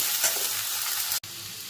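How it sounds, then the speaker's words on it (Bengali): Snake gourd pieces sizzle steadily in hot oil with salt and turmeric, a dense close hiss broken by a brief stir near the end. "চিচিংগুলোকে ভালো করে ভেজে নেব"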